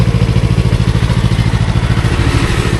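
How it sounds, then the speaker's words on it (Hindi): A Yamaha R3 motorcycle's exhaust throbs close to the microphone in a fast, even pulsing idle, loud and steady for a few seconds with no voices. "इससे पहले इसका एक बार एग्जॉस्ट भी चेक कर लेते हैं।"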